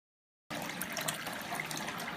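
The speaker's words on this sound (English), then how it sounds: "Water's flowing through your pipe." Water rushes steadily through a pipe in a running leak-monitoring system, a constant close hiss that starts abruptly after a short silence.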